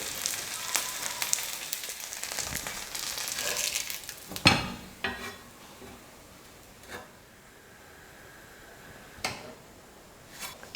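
Semolina-topped bread roasting in butter in a pan gives a soft, steady sizzle and fry hiss for the first few seconds. After that come a few sharp clinks and scrapes spaced out over a quieter crackle, with no talk.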